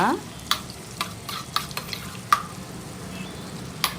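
Moong dal frying in a pan is stirred with a utensil, giving sharp scraping taps roughly every half second over a faint, steady sizzle.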